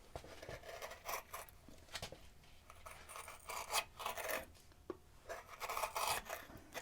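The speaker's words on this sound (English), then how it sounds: "I'm hand pushing a gouge this big" A large carving gouge, freshly sharpened, is hand-pushed through wood, producing faint, close scraping strokes in uneven bursts, each a soft rasping shave followed by brief pauses.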